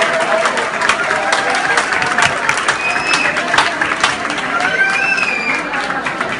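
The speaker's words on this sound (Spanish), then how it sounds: "Quiero un aplauso para ellas." Audience applause and cheering for two women opening a new Top Queens shop, a steady dense clatter of clapping that runs the whole stretch, with crowd noise and a few whistles mixed in.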